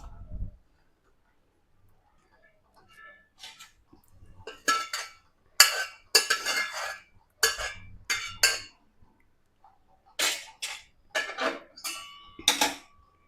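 Boiled masoor dal strained through a metal sieve, a run of separate clinks, scrapes and splashes coming in short bursts, close and fairly loud, with quiet gaps between them and no talking.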